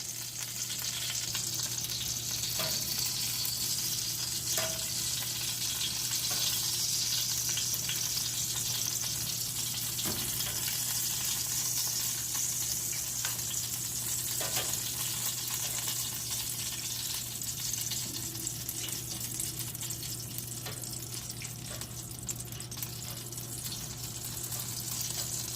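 Bacon sizzles steadily in a frying pan, a continuous crackling fry with occasional small pops and faint stirring, with no talking throughout.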